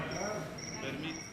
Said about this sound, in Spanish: ¿Ese es un grillo natural o es un grillo a propósito?